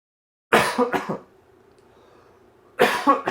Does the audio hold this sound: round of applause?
no